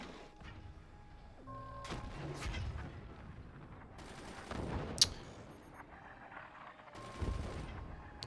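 Cannon fire in the Forts game on the Skylands map: a few booming shots and bursts in a busy battle, one sharp crack standing out near the middle, with other weapon fire and game noise around it.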